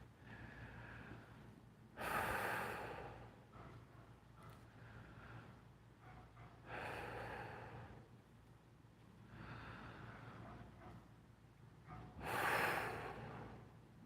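Three slow, deep group breaths at a calm guided relaxation, each a soft airy inhale-exhale swelling at roughly five-second intervals over low steady room hum, with no talking.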